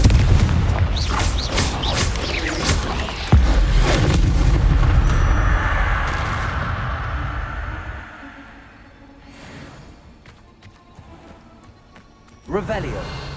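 The Confringo blasting spell goes off in Hogwarts Legacy as a loud, booming burst with rumbling low end that lingers for several seconds and then tails off, followed by a later smaller impact, with a voice speaking briefly.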